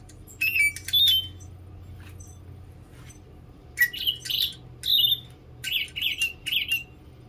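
A small caged bird chirps and sings at close range in two lively bursts of bright, warbling notes, with a quiet stretch in between.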